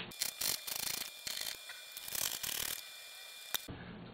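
Screws being backed out of drywall with a ratcheting driver, rapid clicking ratchet bursts in short bouts separated by brief pauses, close and fairly quiet with no talking.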